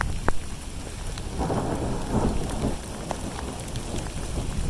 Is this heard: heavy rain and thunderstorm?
yes